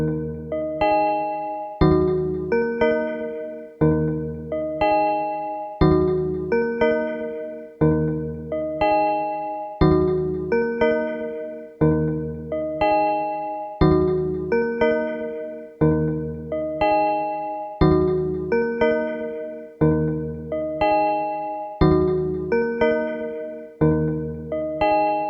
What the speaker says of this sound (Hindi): ये देखिए आप मंदिर की घंटियों की आवाज है।